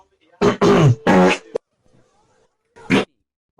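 A fart sound effect plays as a series of loud, wet, sputtering bursts, three close together and then one more after a short gap, with no one talking over it.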